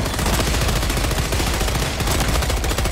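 Dense, continuous automatic gunfire from the video game Helldivers 2, loud and sustained with rapid overlapping shots and no pauses, with no talking.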